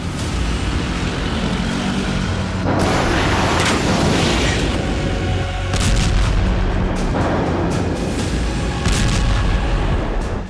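Heavy bombardment in Lebanon, with repeated loud booming explosions and dense rumbling blasts that overlap continuously throughout, close and powerful with no voices.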